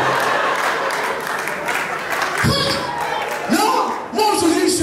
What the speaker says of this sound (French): est-ce que vous pouvez faire un tonnerre d'applaudissements pour Mbinano 237?